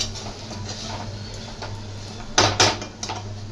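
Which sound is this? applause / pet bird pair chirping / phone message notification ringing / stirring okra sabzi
stirring okra sabzi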